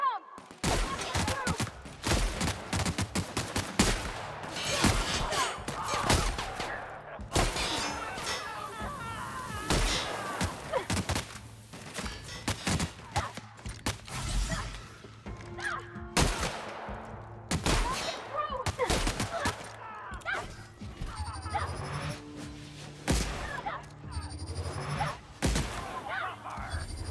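Repeated gunshots and rapid fusillades during a combat fight in The Outer Worlds at the Botanical Gardens, loud sharp cracks in irregular bursts, with excited voices talking over parts of the shooting.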